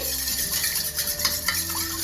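An egg and milk being stirred together in a small bowl, with a steady soft scraping and light clinking of utensil against the bowl for about two seconds, close and continuous, with no talking.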